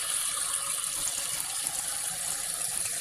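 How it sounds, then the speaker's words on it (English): Water poured from a tap into a pot of Ghanaian groundnut (peanut) soup, a steady bright rushing hiss running the whole time, close and fairly loud with no talking. "I'm just adding water to this,"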